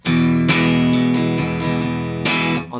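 Fast strumming on an acoustic guitar, with bright full chords struck in quick succession and a hard accented hit near the end, loud and close with no talking.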